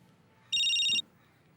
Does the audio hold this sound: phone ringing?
yes